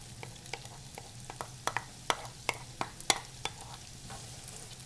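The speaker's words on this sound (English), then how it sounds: "We want to saute these onions until they get tender." Onions sauté in a hot pan, a soft steady sizzle broken by a series of sharp scraping clicks as a utensil stirs and pushes them around, close by with no voices.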